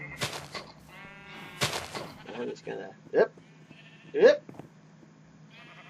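Blocky video-game sheep bleat near a spawner in a player's base, several short wavering baa calls spaced across the moment, loud and close, with someone talking casually between them.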